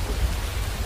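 Steady rain falls in Sakura School Simulator, a dense, even hiss of drops with a low rumble underneath, continuous and alone.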